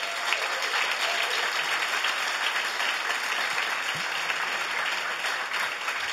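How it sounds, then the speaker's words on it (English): A live audience at a founders-and-funders event breaks into a round of applause, a dense and steady wash of clapping that holds at full strength for the whole stretch, with no speech over it. "let's give a round of applause to Hamilton."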